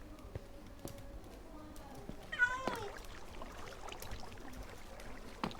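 A cat meows in the Minecraft video game, one short mewing call in the middle over faint game sounds, while someone talks on and off.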